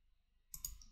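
A single crisp computer mouse click while picking the vertices of an island shape in drafting software, faint and close against a near-silent room.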